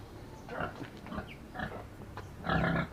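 Pigs grunt and oink in a farrowing pen on a small backyard farm, several rough snorting bursts spaced irregularly, the last one loudest and closest, with no voices.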